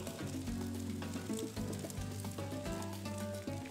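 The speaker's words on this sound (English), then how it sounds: "I'm gonna add some drops of sesame oil." Arroz chaufa, a Peruvian fried rice, sizzles loudly and continuously in a hot pan as drops of sesame oil go in, with bright crackling and faint scraping and no voices.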